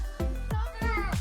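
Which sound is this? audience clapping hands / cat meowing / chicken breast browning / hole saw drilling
cat meowing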